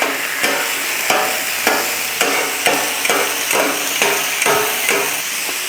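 Turkey on a hot griddle being chopped up with a spatula: about a dozen sharp metallic chops in an even rhythm over a continuous close sizzle.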